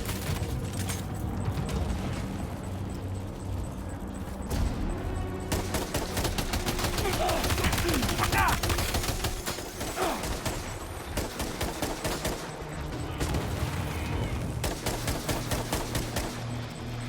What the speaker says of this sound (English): Should I try machine gun?